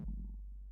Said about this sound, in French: C'était mon ventre, désolé.